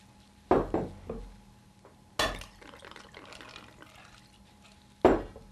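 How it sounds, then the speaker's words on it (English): Vodka, amaretto and triple sec being poured in turn for a martini, with three sharp glass clinks, each followed by a brief splashing pour into a glass. "Next, you're going to add your three alcohols."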